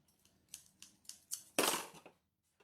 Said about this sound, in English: nothing makes me madder than scissors that don't work